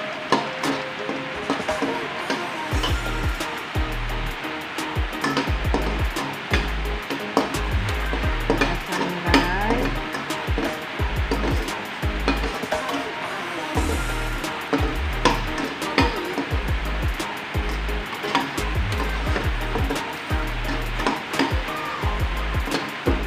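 Shallots dry-roasting in a pan for fish and carrot meatballs, with steady crackling sizzle and repeated scraping and stirring strokes of a utensil throughout, close and fairly loud.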